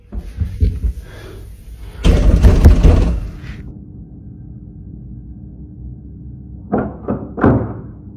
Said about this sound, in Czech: Po chvíli ale uslyší hlasité klepání.